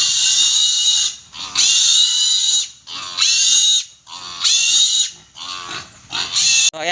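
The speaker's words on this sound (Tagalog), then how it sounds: "nakuha na namin yung biik na pambayad dito sa duty" A piglet being picked up on a farm squeals loudly and close, with about five long, shrill bursts separated by brief gaps.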